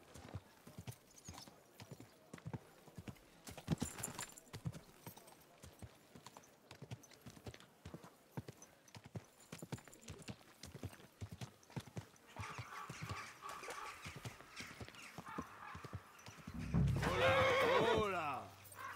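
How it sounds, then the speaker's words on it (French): Rhythmic clip-clop of hooves on a hard surface, with voices here and there, ending in a loud, close horse whinny. "Doudou, bon cheval"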